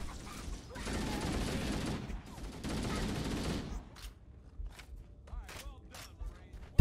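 Halo: Combat Evolved gunfire: a dense burst of automatic shots for about three seconds, then a handful of separate sharp single shots and metallic clicks amid quieter game noise.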